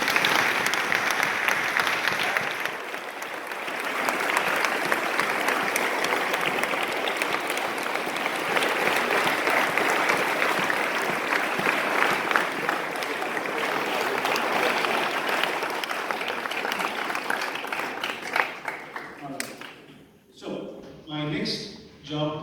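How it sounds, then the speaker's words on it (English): Loud, sustained applause from the audience at a boys' semi-final awards and results ceremony, a dense continuous wash of clapping that fades near the end as a voice begins speaking. "So can we have a very loud round of applause?"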